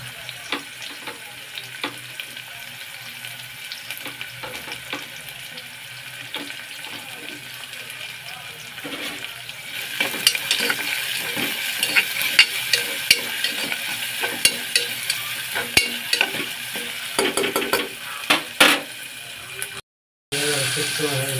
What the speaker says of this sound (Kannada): ಮೆಣಸಿನ್ಕಾಯಿ ಹಾಕ್ತೇನ್ರಿ.